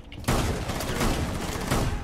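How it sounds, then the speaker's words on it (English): Gunfire in Rainbow Six Siege, a loud, dense burst that starts abruptly and holds as a sustained barrage, with a second hard hit near the end. "I'm gonna shotgun him."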